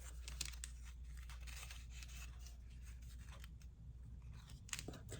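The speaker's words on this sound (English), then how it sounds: "I feel the need to fussy cut those out" Sharp, repeated snips of scissors fussy cutting out paper pieces for a mixed media craft project, a steady run of close, crisp cuts over a low background hum with no talking.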